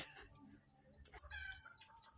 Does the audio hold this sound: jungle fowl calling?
yes